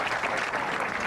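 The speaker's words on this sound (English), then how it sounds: "she's saying that the crowd is clapping too soon" A crowd claps at a women's professional bowling tournament, a brief, steady wash of applause with no voices on top.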